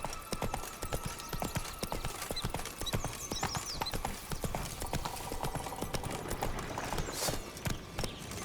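The horse Roach gallops in The Witcher 3, its hooves giving a steady, rapid clip-clop that runs throughout. The hoofbeats are fairly quiet and mixed with faint game ambience.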